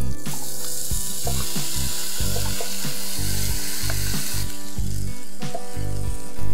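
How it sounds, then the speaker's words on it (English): Chopped raw potatoes and tomatoes frying in a pan, a loud, dense, continuous sizzle with repeated rhythmic scraping and knocking of a spoon stirring through the mixture, up close and without speech. "And now I'm going to throw in my chopped potatoes. The raw potatoes and my chopped tomatoes."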